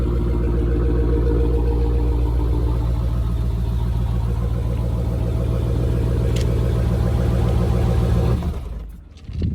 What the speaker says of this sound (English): that motor sounds like it's knocking a little bit